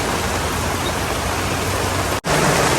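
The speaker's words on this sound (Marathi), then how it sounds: "पाऊस पण आता खूप जोरात आला आहे बघा खूप जोरात पाऊस आहे" Heavy monsoon rain pouring at Malshej Ghat, a dense, loud, unbroken wash of noise close around, cut by one brief dropout near the end before resuming.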